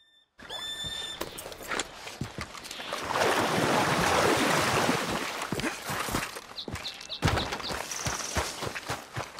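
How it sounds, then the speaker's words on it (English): A horse's hooves in a video game, the prospector's abandoned mount, sound as a series of clip-clop steps over a wash of ambient rushing, with little or no talk. "This is the prospector's horse, but he is nowhere to be found."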